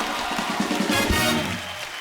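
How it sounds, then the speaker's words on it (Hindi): Loud applause fills a TV comedy studio as the audience cheers for actor Ranveer Singh, dense and continuous throughout with a brief swell near the middle. "एक बार रणवीर सिंह के लिए जोरदार तालियां हो जाए।"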